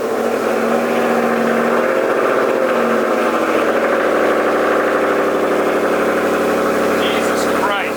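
A Ford Mustang GT engine of about 500 horsepower starts and idles steadily throughout, a continuous low rumble with a faint whir, and a brief higher squeal near the end.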